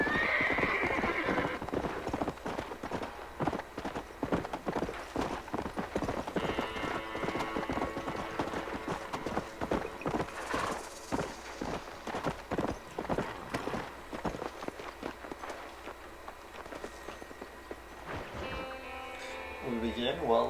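Horses in the Red Dead Redemption video game trot with steady, busy clip-clop hoofbeats and let out loud whinnies, with some speech mixed in over a continuous game soundscape.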